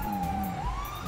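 A police siren in the video game GTA 5 wails continuously at moderate level, its tone sliding slowly upward partway through.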